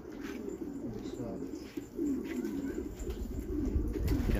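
Pigeons cooing close by in a loft or yard, a run of soft, low, throaty coos repeating in a rolling rhythm over a few seconds, with faint background murmur.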